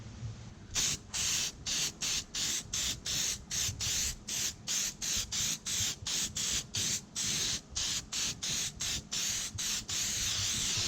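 Rapid repeated bursts of aerosol headlight coating sprayed onto a BMW Z3 headlight, a steady rhythm of short hissing spritzes with brief gaps, close and clear with no talking.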